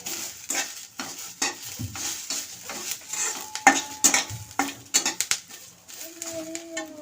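Onion fries in a pan for a village-style egg curry: steady sizzling under repeated spatula scrapes and clinks against the metal pan, close up, with no speech.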